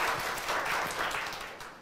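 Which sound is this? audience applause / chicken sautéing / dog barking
audience applause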